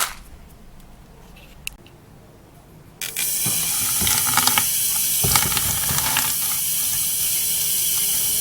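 Water poured from a tap or hose onto feed for Rhode Island Red and Black Australorp breeder chickens, a loud, steady rushing pour starting abruptly after a quiet stretch with faint clicks.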